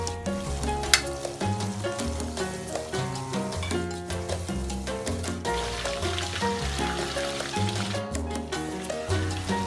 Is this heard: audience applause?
no